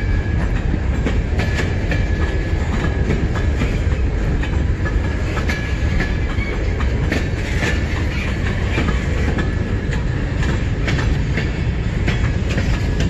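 A westbound freight train speeds past a railfan spot in Emmett, Michigan, a loud, steady roar with continuous clickety-clack of wheels over rail joints filling the whole stretch, and no voices.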